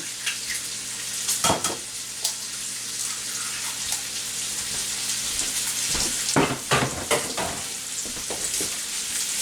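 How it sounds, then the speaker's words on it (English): Bacon renders and sizzles in a pan as pasta sauce is prepared nearby: a steady, dense frying hiss throughout, with a few louder utensil clinks and scrapes. "while my bacon renders down"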